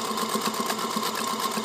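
Singer Featherweight 221 sewing machine stitching through four layers of linen, a steady fast mechanical whirr with rapid needle ticking, continuous and close, no voices.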